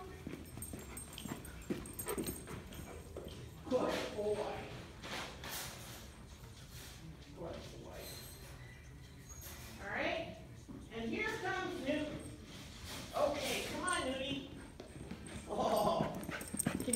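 A dog fresh out of its kennel searches for hidden treats under a muffin tin, with sniffing, scrabbling and clattering of metal and objects close by, under a person talking and urging it on throughout.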